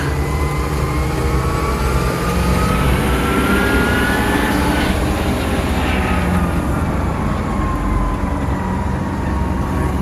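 The engine of a 45-year-old Ford tractor drones loudly and steadily as it is held at high revs, with a constant rumble and a slowly shifting whine.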